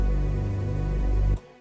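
Synth pad, the Large Area Pad preset from Hype, in an Afro house track: a steady, wide sustained chord that holds evenly, then drops away abruptly near the end. No voices.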